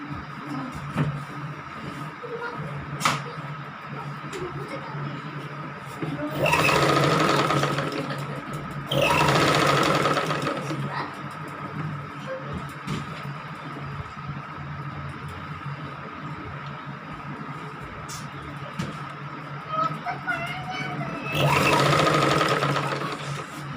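A domestic sewing machine stitches cloth in a home setting, running in three loud rapid whirring bursts separated by quieter pauses with low background hum and faint voices.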